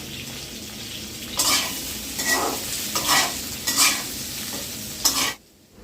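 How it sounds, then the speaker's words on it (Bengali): Boiled papaya pieces fry crisp in a hot pan with a steady sizzle, broken by several louder bursts of stirring and scraping, close and loud, before cutting to near silence at the end. "আর এখন হচ্ছে ভেজে নেব, একটু কড়া করেই ভাজবো।"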